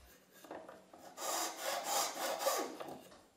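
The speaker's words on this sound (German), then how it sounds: "Nach dem Fräsen feilt er die Beläge von Hand." Piano key coverings are filed by hand after milling during a grand piano restoration, with a rough rasping stroke repeated several times up close, starting softly and swelling into a run of louder rhythmic passes.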